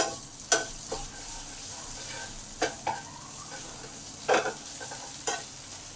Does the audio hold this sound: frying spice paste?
yes